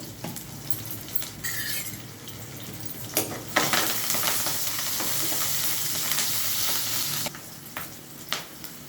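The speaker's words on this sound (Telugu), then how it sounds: "ఇప్పుడు కరివేపాకు వేస్తున్నానండి. ఆనియన్స్లో కొంచెం సాల్ట్ వేస్తున్నాను." Curry leaves and onions with cumin and a pinch of salt frying in a pan, a steady close sizzle with sharp crackling bursts and stirring scrapes, no talking.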